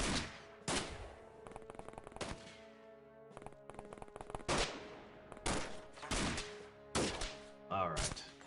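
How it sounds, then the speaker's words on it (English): Minigun fire in XCOM (The Xcom Files): several loud, sharp bursts of rapid shots, spaced a second or so apart, each cracking hard and then dropping off fast, with quiet gaps between volleys. "Not often they survive a volley of minigun fire."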